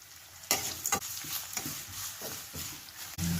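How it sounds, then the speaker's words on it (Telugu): Onions and cumin fry in a pan, a continuous close hiss and crackle broken by a few sharp scrapes and knocks of a stirring utensil, fairly quiet overall. "ఉల్లిపాయలు వేయించుకోవాలండి."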